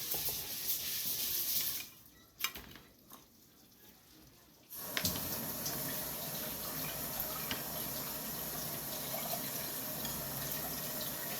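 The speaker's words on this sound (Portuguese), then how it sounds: "lavamos o arroz com pouca água" Tap water runs into a pot while rice is being washed, a loud steady rush that stops briefly for a couple of seconds, with a clink, then resumes evenly.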